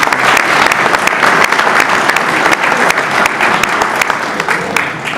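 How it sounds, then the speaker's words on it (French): A hall audience claps steadily at a town New Year's greetings ceremony in France, a loud, dense, continuous round of applause with sharp individual claps throughout. "on va applaudir les Patalos et leur souhaiter une excellente année"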